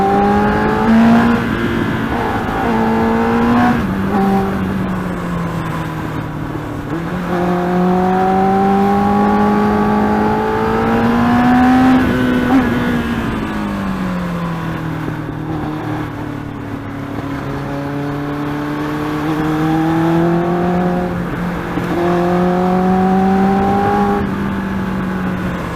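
A Yamaha R1 sport motorcycle ridden fast on a road in India, its engine rising and falling through repeated gear shifts, loud and close with steady wind rush beneath.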